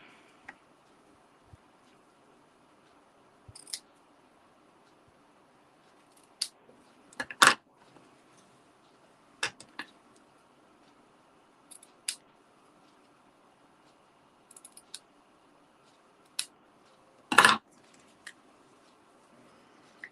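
A handful of sharp, isolated snips of scissors cutting ribbon, spaced irregularly over quiet background, with a couple of louder crisp cuts standing out.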